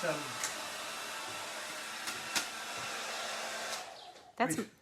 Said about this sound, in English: Don't misuse my hair dryer.